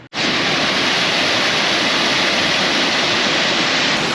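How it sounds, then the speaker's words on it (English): A waterfall on a Lake District fell walk, a near, loud, unbroken roar of rushing water that sets in abruptly and holds steady throughout. "Every corner you turn around, you see a different waterfall."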